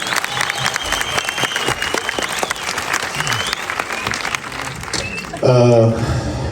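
Audience applause at an Armenian film screening event, dense steady clapping from a crowd throughout, with a brief louder burst of cheering near the end.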